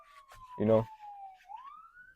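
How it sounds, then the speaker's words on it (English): An ambulance siren wails past at a distance, a steady tone sliding down then rising, with a short spoken voice cutting in over it. "It's the ambulance going around"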